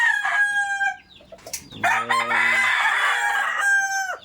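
A rooster crows loudly and close, one long harmonic cock-a-doodle-doo after another, with clucking from backyard chickens in between on a rainy day.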